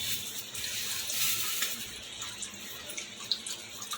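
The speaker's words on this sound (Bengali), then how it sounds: "পরিমাণ মতো জল দেবো" Water poured into a cooking pot of raw vegetables for a soybean stew, a steady close splashing gush with no voices.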